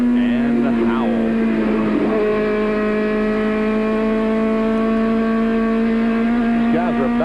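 Goodys Dash Series race cars lapping Bristol, Tennessee on a Saturday afternoon in 1994: a loud sustained engine drone with pitch sweeps as cars pass, heard under a commentator's voice.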